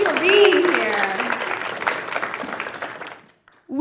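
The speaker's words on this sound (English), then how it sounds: "So give yourself a round of applause." Applause from the crowd at an in-person community campfire kickoff event, a dense burst of clapping with cheering voices mixed in, cutting off abruptly before a voice resumes.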